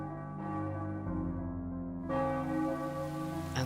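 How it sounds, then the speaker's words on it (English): Church bells tolling in the city-building game Cities Skylines, rich sustained peals layering and swelling as new strikes join, loud and alone without voices. "And those bells."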